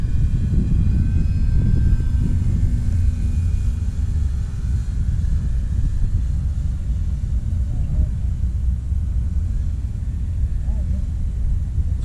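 A Sig Seniorita model airplane engine runs at full throttle, a steady droning rumble with a thin whine heard from a distance outdoors, while a person talks over it.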